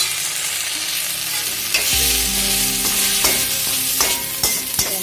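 Tamarind and salt sizzle steadily as they are sautéed in a hot pan, a loud, close frying hiss broken by repeated scraping stirs of a spoon, with no talking.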